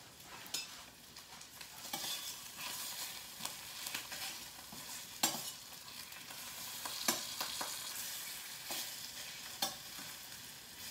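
Pork fat sizzles and crackles steadily in a cast iron pan, with scattered pops and stirring scrapes throughout. The sound is close and moderately quiet.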